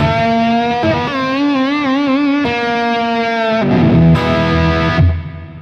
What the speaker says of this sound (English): That's a big old plate reverb.